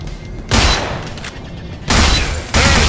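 Heavy gunfire from the Gunz 2 video game, loud and close, coming in three dense bursts with brief lulls between them and no talking over it.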